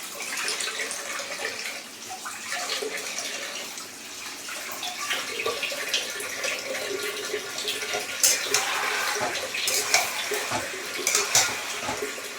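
Tap water runs continuously over chicken meat being washed in a bowl, with steady splashing and sloshing plus scattered clinks of the container, close and fairly loud.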